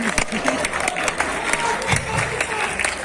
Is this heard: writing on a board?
no